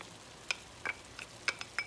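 Diced leg ham frying in a pan, releasing a little water as it sautés; soft, scattered sizzles and crackles pop up one at a time at low volume, with no talking.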